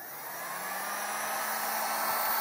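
A heat gun blows a steady, even whoosh of hot air at a car emblem, a continuous broadband hiss with a low hum under it that grows slightly louder over the whole stretch, with no voices.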